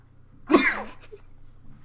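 A single sharp, spluttering cough from someone who has just inhaled water. It is close and loud, and a quiet gasp follows it.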